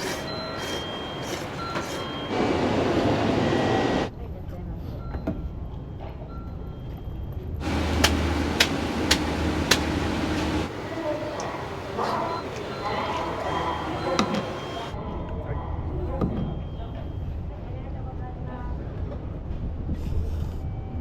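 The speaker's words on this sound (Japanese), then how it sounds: "まもなく1番線に普通列車熱海行きが" A local train bound for Atami pulls into platform 1 at a Japanese station, a steady rolling rumble with squeals and signal beeps while a platform announcement and nearby voices carry over it.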